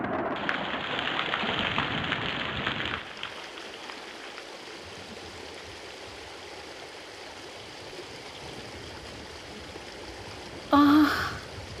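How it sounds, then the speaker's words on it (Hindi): Rain falls outside as a steady broad hiss, heavier and louder for the first few seconds before settling to a softer patter, with a brief brighter noise near the end. "ओह, बाहर तो बारिश हो रही है।"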